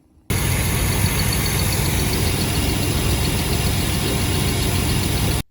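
A 1992 Chevrolet S10 pickup truck engine idling, a steady close rumble that starts abruptly and runs evenly, with a faint light clicking above the low drone.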